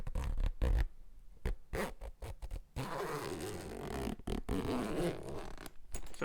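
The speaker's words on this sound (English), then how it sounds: "Let me zipper it up" A clothing zipper is pulled up close to the microphone in a quiet ASMR setting: a few short scratchy tugs, then a longer continuous rasping zip.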